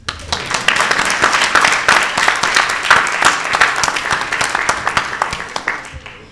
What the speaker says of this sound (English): So I propose to applaud the one who remains.